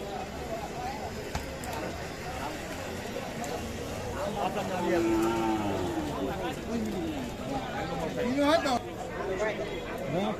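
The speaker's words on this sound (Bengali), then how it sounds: "এখানে একটা আমরা শাহিওয়াল বাছুর দেখছি" A Sahiwal calf moos amid a busy cattle-market crowd of chattering voices, the low call rising briefly above the steady background talk.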